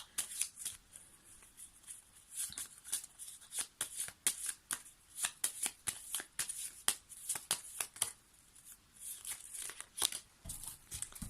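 A deck of oracle cards is shuffled close up, quick bursts of riffling and slapping cards repeated in an uneven rhythm with short pauses between them.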